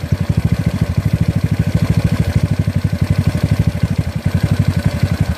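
GY6 scooter engine with an OKO PWK 30mm carburetor idling, a loud close chugging putter with a fast even pulse, rough and steady throughout without speech.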